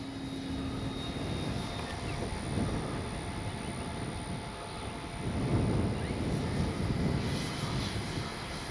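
A model F4U Corsair airplane's engine drones in the distance over wind noise, its whine rising and fading slightly as it passes overhead.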